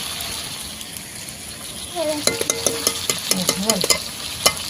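Chili powder and turmeric go into a hot pan of frying ginger, garlic and ground spices for a spinach curry, giving a soft sizzle and then rhythmic scraping stirs, close and fairly loud, with a little voice heard behind.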